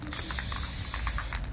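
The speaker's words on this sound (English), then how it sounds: "Spray adhesive" A short, steady hiss of an aerosol can spraying close by, lasting just over a second.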